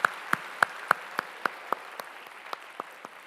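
Applause rings out in a church after a worship song, heard as a steady rhythm of evenly spaced claps, fairly faint and roomy, gradually softening.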